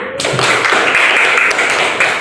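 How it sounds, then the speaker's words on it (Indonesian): A class of students claps together in a classroom, a dense, steady patter of applause close by that carries on for a couple of seconds. "tepuk tangan"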